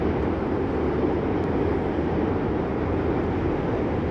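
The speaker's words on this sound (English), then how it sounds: "Train sounds are coming from the Manhattan Bridge right over here." A train crosses the Manhattan Bridge in New York's DUMBO area in January, a continuous low rumbling roar that holds steady and loud throughout.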